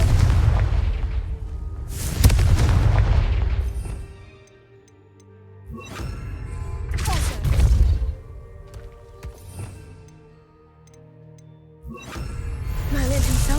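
The Confringo spell explodes in Hogwarts Legacy, played on PS5. Three loud, deep booming blasts come a few seconds apart, each followed by a fading rumble, with a voice casting the spell.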